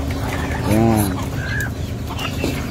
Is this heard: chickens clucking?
yes